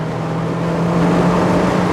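A 2026 Mazda MX-5 Miata Club engine pulls hard on a highway on-ramp, a loud steady drone with a constant low hum and rising intensity, heard from inside the car.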